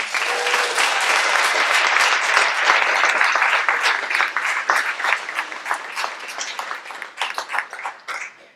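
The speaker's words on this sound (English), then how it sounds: "can I please just get a round of applause for everyone else?" A round of audience applause at an evening talk, loud and dense at first, then thinning into scattered individual claps as it fades out.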